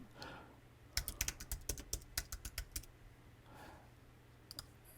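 A quick run of close key presses on a computer keyboard, crisp clicks in an irregular typing rhythm, then a pause and a couple of final taps over a faint room hum.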